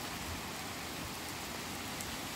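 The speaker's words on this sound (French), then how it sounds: "Là, ça alterne entre pluie modérée et pluie forte." Steady, dense rainfall of moderate to heavy intensity during a thunderstorm in late April at Meyzieu, France, a continuous hiss with no pauses or distinct drops standing out, fairly close and even throughout.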